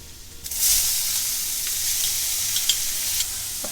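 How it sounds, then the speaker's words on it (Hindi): Finely chopped onion, salted, frying in a pan for bhindi do pyaza, a loud continuous hiss that starts abruptly as it hits the oil, close up with a few stirring scrapes and no voices. "अब प्याज को हम तब तक भूनेंगे जब तक एक अच्छा गोल्डन कलर आ जाए।"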